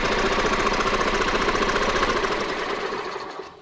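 An old gas golf cart engine, pulled from a junkyard, cranks over without starting. The rapid, even chugging is loud and close and slowly winds down at the end.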